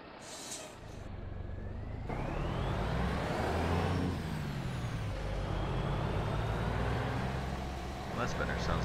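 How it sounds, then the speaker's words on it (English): Heavy Mack B62 truck in American Truck Simulator, a loud continuous diesel engine drone rising and falling in pitch as it revs and shifts, with a brief air brake hiss at the start and a voice talking over it. "Sounds more like a truck."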